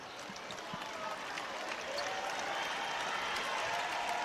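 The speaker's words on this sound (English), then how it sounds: "Barclays Center crowd giving this team a nice round of applause." A basketball crowd at the Barclays Center in Brooklyn applauds during a WNBA game, a broad wash of clapping that swells gradually and stays loud and continuous.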